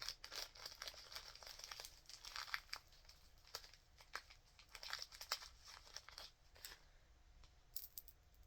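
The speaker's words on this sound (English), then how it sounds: "I hate that my herbs are stored in plastic bags." Plastic bags holding dried herbs crinkle and rustle close up in irregular bursts of sharp crackles with short pauses, with no talking.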